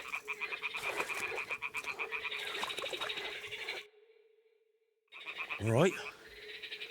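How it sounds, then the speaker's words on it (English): Toads croak by a nest in the video game Kingdom Come Deliverance II, a dense, rhythmic, close chorus that breaks off briefly and then resumes, with a short spoken remark near the end. "Ah, the toads are croaking here."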